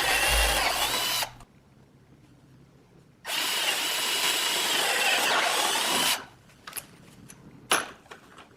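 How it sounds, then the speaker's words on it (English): A power drill whines loudly drilling holes in wood for a trailer sailer outboard motor mount, in two long bursts separated by a pause, followed by a few short clicks and knocks. "we drill out the holes for the wood"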